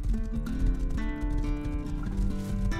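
A horse's hooves clip-clopping in the Rust survival game, a steady run of close, fairly loud hoof beats over game ambience with no talking.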